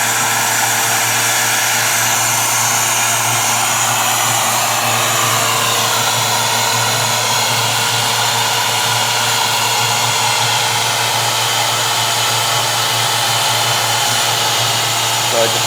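A Miller 105 fabric welder sealer blows hot air in a steady, loud, continuous whoosh with a constant motor hum, running unbroken from start to finish with no pauses.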